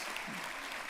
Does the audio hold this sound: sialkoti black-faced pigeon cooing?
no